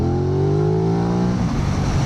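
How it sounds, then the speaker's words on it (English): A 2025 Aprilia RS660 Factory sport motorcycle engine screams steadily at high revs with rising harmonic pitch, then roughens into a lower, crackling burble as it backs off. "I really like the sound of the engine."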